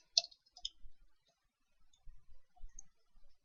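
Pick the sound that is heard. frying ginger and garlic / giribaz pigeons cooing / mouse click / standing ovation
mouse click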